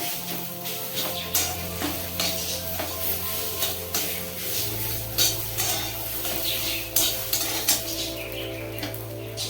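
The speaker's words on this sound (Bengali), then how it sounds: "ডিমটাকে নাড়িয়ে নাড়িয়ে ভেজে নিচ্ছি।" Fish roe fries in a pan while a utensil stirs it, giving a steady sizzle with repeated scraping and clinking strokes throughout. A low hum joins partway through, and nobody talks.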